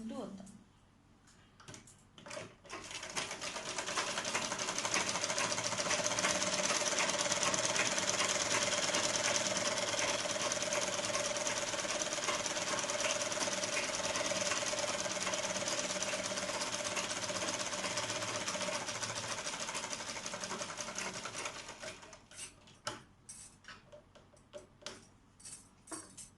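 A sewing machine back stitches around a dress neckline, its fast, steady mechanical ticking running for nearly twenty seconds before slowing into a few scattered taps, with someone speaking around it.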